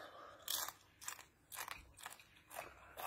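Crunchy cookie crumbs being chewed during a spicy eating challenge, with six distinct loud crunching bites spaced roughly half a second apart, close and with no talk.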